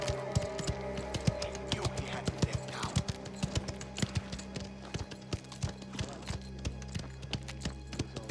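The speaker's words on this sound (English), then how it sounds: "Let's leave the horses with Gaspare." Horses' hooves clip-clop in a video game, a quick, steady run of sharp hoof strikes with a low background hum underneath.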